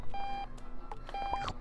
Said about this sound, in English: I gotta shut this alarm up